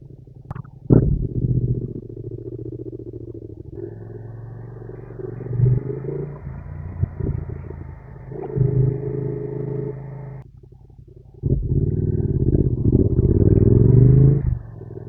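A Yamaha R7 motorcycle engine drones up close while being ridden, rising and falling in surges with brief drops between pulls, alone without talk.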